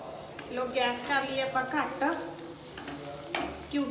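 Ghee heating in a pan for besan laddu, with soft stirring scrapes and a faint, steady sizzle in the background, plus occasional brief louder clinks.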